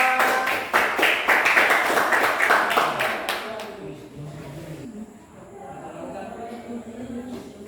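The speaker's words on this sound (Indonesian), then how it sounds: "kita kasih tepuk tangan dulu untuk kelompok 2" Students in a classroom clap for group 2 during a school teaching session, with steady applause for a few seconds that fades out as voices take over.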